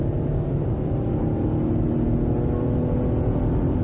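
BMW X5 45e plug-in hybrid accelerating on a highway, heard from inside as a loud, steady low engine and road drone with tyre and wind roar throughout.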